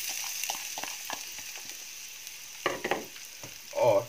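Steady sizzling of finely chopped onions frying in hot oil, with scattered clinks and stirring scrapes, a louder stir near the end.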